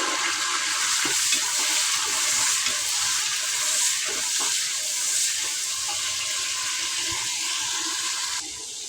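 Tomatoes and a lump of asafoetida sizzle in hot oil in a home kitchen pan while sambar is being made, a steady, even frying hiss that runs throughout with a few faint stirring knocks and no talk.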